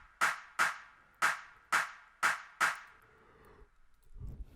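A second FL Studio clap sample plays alone: six crisp, bright clap hits in a quick, even pattern, then a brief low rumble at the end.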